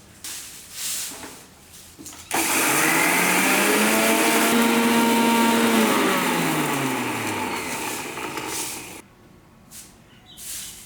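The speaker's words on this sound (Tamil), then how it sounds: "அதே மிக்சிலே போட்டு அரைச்சிக்கலாம்" A mixer grinder grinding spice powder whirs loudly and steadily for several seconds, its pitch shifting slightly as it grinds, then cuts off abruptly into quiet room noise.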